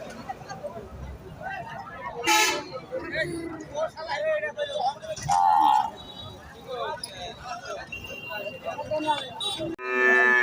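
Cattle moo loudly several times amid a busy cattle market hubbub of voices and chatter, with a long low bellow near the end; a black-and-white Holstein Friesian bull is among them.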